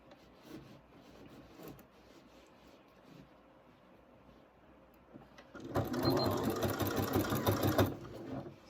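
A home sewing machine stitches binding onto fabric for a curved-corner quilt edge, a short burst of fast rhythmic whirring at moderate volume starting after several seconds of quiet handling rustles.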